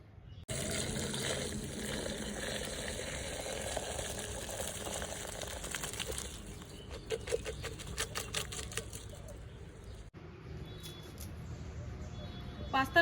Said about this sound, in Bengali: পাস্তাটা তো সিদ্ধ হয়ে গেছে, এবার ঝুড়ির মধ্যে ঢাইলে দিব